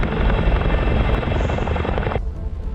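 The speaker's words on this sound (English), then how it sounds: "the CH-47 Chinook is not just a battlefield taxi, it is a logistics backbone." A CH-47 Chinook military helicopter flies close by with a loud, steady rotor chop and engine roar, cutting off abruptly near the end with no voices.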